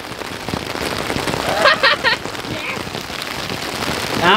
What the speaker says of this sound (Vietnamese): Đỡ mưa lớn quá nó tạt.